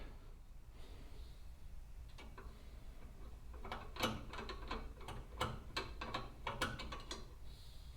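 Phillips screwdriver working a screw out of the headlight trim on a Jeep CJ5, heard as a run of quiet, irregular ratcheting clicks and small metallic ticks up close, with no talking.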